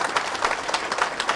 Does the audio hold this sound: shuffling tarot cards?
no